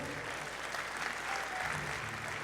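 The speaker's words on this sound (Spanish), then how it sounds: "Dele fuerte el aplauso al Señor." A church congregation applauds during a sermon. The short burst of many hands clapping is fairly soft and steady.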